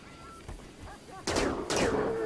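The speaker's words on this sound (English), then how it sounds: "Shoot the rhinos, finish them off, get them in the pot." Gunfire from colonists shooting rhinos in the video game Rimworld, two sharp sequential bursts of shots ringing out after softer scattered pops, moderately quiet and distant-sounding.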